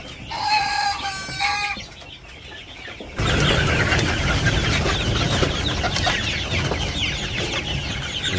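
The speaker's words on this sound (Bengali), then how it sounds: "মুরগিতে ডাকে খুব সুন্দর করে" Chickens cluck and a rooster crows in a village yard in the morning, the calls starting clear and close. A louder, denser flock chorus then takes over and carries on steadily.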